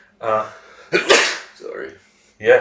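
A loud, sharp sneeze bursts out close to the microphone between short bits of nearby speech, one abrupt explosive burst followed by more talking.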